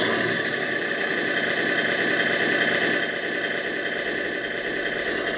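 Simulated truck engine from a Tamiya 1/14 tractor trailer sound unit, a steady electronic idling drone with mechanical rumble, close and fairly loud, running continuously without talk.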